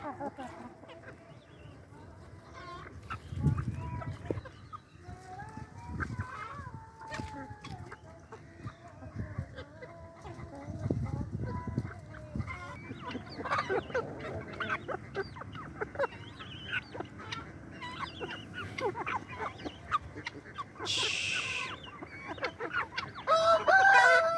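Hens and their chicks on a poultry farm, foraging on open ground, cluck and crow continuously at a moderate distance amid busy outdoor background noise.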